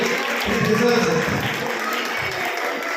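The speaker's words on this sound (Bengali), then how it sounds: "কালীবাড়ির অডিয়েন্সের রেসপন্সটা যেভাবে পেলাম আমার মনে হয় খুব জোরে একটি হাততালি" A crowd applauds loudly and steadily for about three seconds at a Kali Puja 2025 gathering at the Toronto Kalibari, with dense clapping filling the whole stretch.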